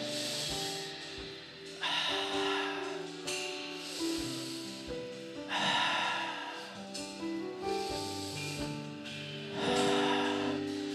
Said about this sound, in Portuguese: Respira fundo aí 3 vezes e solta a respiração para você oxigenar seu cérebro.